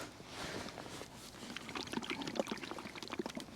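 Hemp oil trickles and splashes as it is poured into carp fishing bait, a short quiet stream of liquid.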